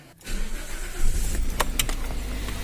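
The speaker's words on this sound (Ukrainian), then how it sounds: "Заводимо автомобіль, дивимося, чи є іскра" A Toyota Avensis engine cranks and catches, then settles into a rough, steady running rumble close by, misfiring on three cylinders.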